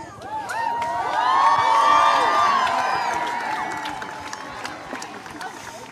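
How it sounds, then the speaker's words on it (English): A big crowd of protesters outside the Supreme Court cheers and shouts, a swelling roar of many voices with whistles and yells that peaks early and then fades, with people talking. "Big crowd."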